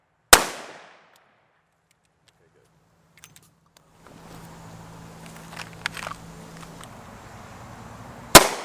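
Two loud, sharp handgun shots ring out, one at the very start and another at the end. Near-silence follows the first shot, then faint shuffling and handling noises fill the gap before the second.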